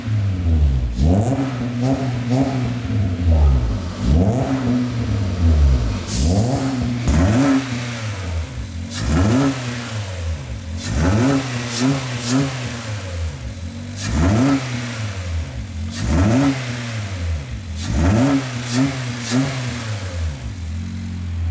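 Honda Mobilio engine fitted with a custom stainless air intake, revving repeatedly in loud, rhythmic bursts that rise and fall about every two and a half seconds, close up, with no talk.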